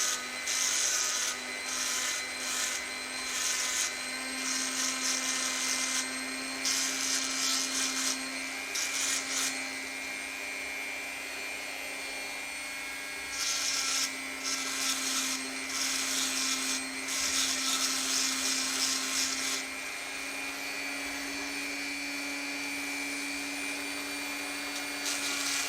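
High-pitched rotary tool with a Christmas tree burr grinding carbon inside a Jaguar S-Type cylinder head exhaust port, a steady close motor whine with bursts of harsher scraping as the burr bites the metal.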